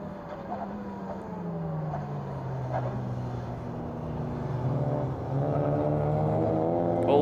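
Touring race cars at the Hungaroring circuit drone past, several engine tones rising and falling as they pass by at mid distance, while a commentator talks over them.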